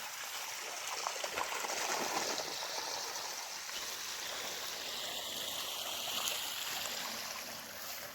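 Steady rushing water flows continuously through a farm drainage pipe, a broad hiss with no pauses, alone without voices.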